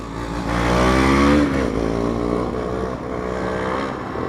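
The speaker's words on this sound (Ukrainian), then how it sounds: "ну мотор скайбайку прям такий нормальний" A Skybike motorcycle engine revs loudly and close by, a steady droning roar that swells early and then holds at a slightly lower level, with no talking.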